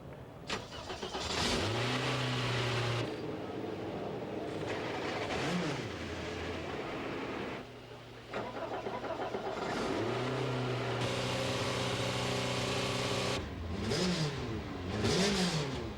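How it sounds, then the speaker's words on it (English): Touring car engines at the 1997 Bathurst 1000 start and rev on the grid, with 2-litre cars blipping their throttles in repeated loud rising and falling surges that overlap one another and carry on continuously. "The engines roar, they're ready to go."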